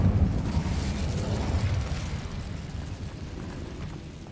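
Incendio fire spell cast in Hogwarts Legacy, a loud whooshing burst of flame at the start that rumbles on and slowly fades over several seconds, with no talk.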